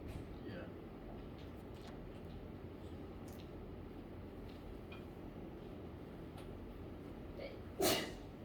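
A single sharp sneeze bursts out near the end, standing out over a steady murmur of background room noise.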